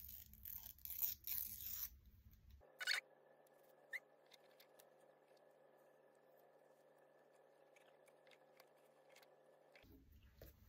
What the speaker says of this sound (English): So I'm going to use this green and blue striped, and I'm going to tear it.